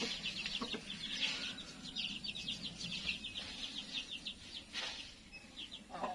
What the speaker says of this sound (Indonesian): Tadi terganggu gara-gara ayam